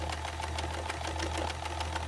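A sewing machine stitches elastic into a skirt with a fast, even mechanical chatter and a low steady motor hum, close by and continuous.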